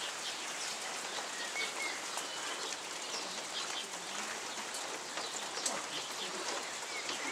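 Steady rain patters softly on surfaces, with faint bird sounds in the background and no talking.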